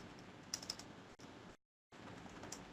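Code being typed on a computer keyboard, a few quiet key clicks in a short cluster amid a steady faint background hiss, broken by a brief silent gap before the noise resumes.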